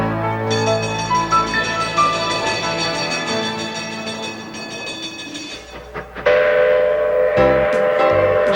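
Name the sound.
cog railway steam locomotive, Pikes Peak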